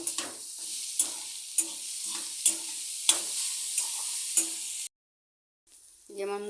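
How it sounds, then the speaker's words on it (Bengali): Radish greens fry in a pan with a soft, steady sizzle while a utensil stirs them. The stirring makes about eight sharp scrapes or clinks at a regular rhythm. Then comes a brief silence and a short burst of other noise. "এখন নেড়ে নেব।"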